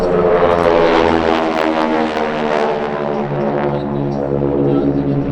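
Aerobatic formation team aircraft flying overhead at the Spirit of St Louis airshow, a loud, steady droning engine roar with slowly shifting pitch that holds throughout, without speech.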